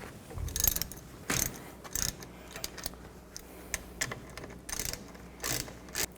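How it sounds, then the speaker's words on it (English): Ratchet wrench with an 18mm socket loosening brake bracket bolts behind the leaf spring on a 1999-07 Chevy Silverado 2500, heard as repeated bursts of quick clicking with short pauses between, close and fairly loud. "Take these two bolts off on the back here, use a 18mm socket."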